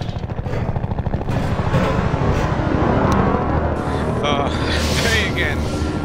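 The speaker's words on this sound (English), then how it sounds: "That helicopter ain't leaving us anytime soon." Helicopter rotor and bursts of gunfire in the Half-Life 2 roleplay game: a dense, loud, continuous wash of combat noise fills the whole stretch, with sharp crackling peaks over a rumbling low end.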